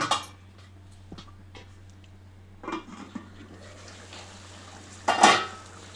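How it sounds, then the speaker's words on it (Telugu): A lid goes onto a steel pot of simmering Telugu-style korameenu fish curry, giving a sharp metallic clatter near the end after a few soft knocks and scrapes, all close by over a steady low stove hum. "దీని మీద మూత పెడదాం."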